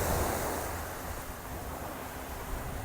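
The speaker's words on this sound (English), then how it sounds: "You can listen to the sound of the waves." Steady ocean surf washes onto a beach in a continuous broadband roar, loud and close, with wind buffeting the microphone and no voices.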